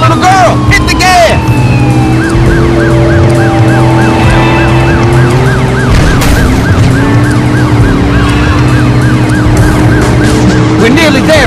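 Police car sirens wail continuously in the Driver San Francisco video game, their rising and falling tones cycling loudly over engine noise, with a voice speaking briefly at the start.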